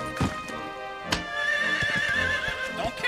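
A horse neighs in Dragon Quest XI, a sustained whinny with rising and falling tonal harmonics, preceded by a few sharp clip-clop hoof impacts, close and clear without talk.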